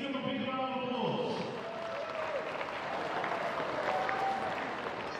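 Applause rolls through the crowd at a women's under-17 Oceania basketball final between Australia and New Zealand, steady and full across the hall, with an announcer's voice speaking over the start.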